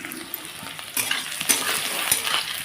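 Green chillies and garlic crackle in hot oil as a tempering for a taro dish, a close sizzle that jumps louder about a second in and again at intervals as they are stirred, without speech.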